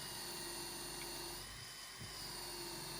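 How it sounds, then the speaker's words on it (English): A power drill whines steadily while boring through a wooden board backed by a scrap board, a thin, high motor tone that dips briefly as the bit bites partway through, then picks back up. "just do it with me drill"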